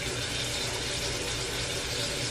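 Water runs steadily from a tap to dampen a fake stain made with Nutella on underwear, a constant, close, full-band rushing hiss with no talk over it.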